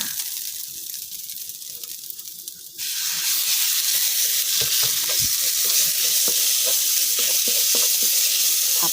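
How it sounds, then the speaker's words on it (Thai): Minced pork hits a hot pan with shallots and bursts into loud, dense sizzling that continues steadily as it is stir-fried, with occasional scraping stirs, after a quieter stretch of gentle frying. "ต่อไปเราก็จะใส่หมูสับลงไปค่ะ"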